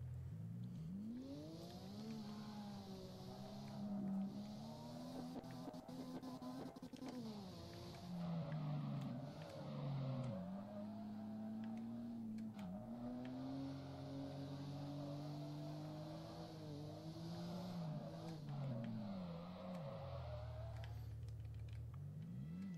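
A car engine drives in the Drift21 video game, a steady synthetic drone that rises and falls with gear changes and revving over about twenty seconds, fairly quiet.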